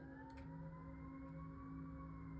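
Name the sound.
siren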